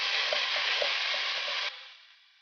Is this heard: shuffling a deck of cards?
no